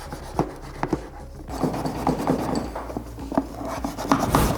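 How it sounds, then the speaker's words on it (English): A Scotch-Brite pad zip-tied in place scrubs a soapy car headlight lens, making quick rhythmic rasping strokes that are close and moderately loud, with no talking. "we're just going to tie our little piece of Scotch-Brite here with the zip tie. Start scrubbing."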